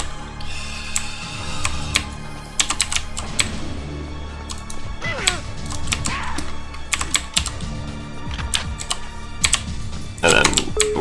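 Mechanical computer keyboard clattering with rapid, irregular bursts of sharp key clicks, close and loud, with brief pauses between flurries of typing.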